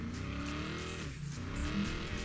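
Ford Mustang in the racing video game Need For Speed Payback, engine droning steadily at a sustained high pitch with slight shifts in tone, loud and continuous throughout.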